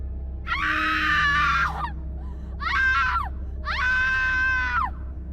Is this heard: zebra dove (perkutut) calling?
no